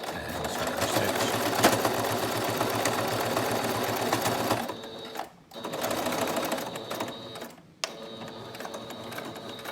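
Sewing machine stitching a strap, a steady close motor hum with rapid needle ticking that eases off, then two brief stops and restarts, no speech over it.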